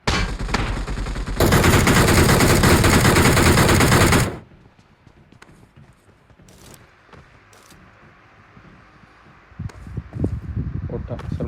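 Loud, dense burst of automatic gunfire in PUBG fills the opening seconds, then cuts off to quieter ambient game sounds with scattered faint shots and rustles, with louder activity returning near the end.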